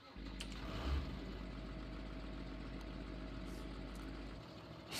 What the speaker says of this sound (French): Donc voilà, nouveau tracteur.